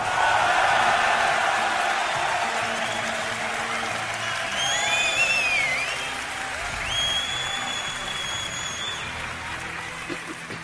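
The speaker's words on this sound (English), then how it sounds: "Give it up for Puma." Large Dreamhack Winter crowd at a StarCraft esports event applauding player Puma, sustained loud clapping and cheering that rolls on for several seconds with a few whistles and shouts.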